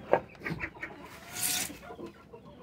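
A hen clucks in short bursts on a rooftop among rabbits, with a few brief fowl calls near and moderately loud over background noise.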